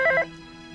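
A telephone rings loud and close in a single brief electronic trill, then cuts off and leaves a faint steady hum.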